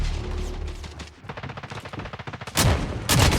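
Shotgun blasts fire in a video-game match as a rapid string of sharp, close cracks, ending in two louder booms.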